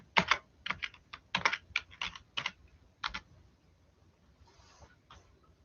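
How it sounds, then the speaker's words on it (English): Typing on a computer keyboard indoors, faint quick bursts of key clicks in uneven clusters that trail off into quiet, with no talking. "I will type it in there for you."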